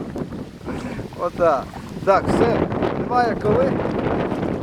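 Wind gusting over a small rowing boat heading upstream against the current on the Pripyat river near Svalovychi village, a steady broadband rush buffeting the microphone while voices talk throughout.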